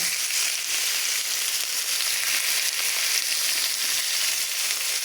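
Liver steak seasoned with pepper and salt fries in olive oil in a pan, giving a steady, dense, close sizzle that continues without a break.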